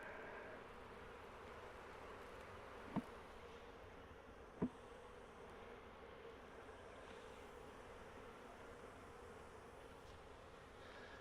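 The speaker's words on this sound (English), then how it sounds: "there's a lot of bees down there under the box" Honeybees hum in a dense, quiet, continuous drone around a 10-frame deep hive box, with two faint sharp clicks partway through and no voices.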